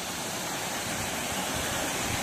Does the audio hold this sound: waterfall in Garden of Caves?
yes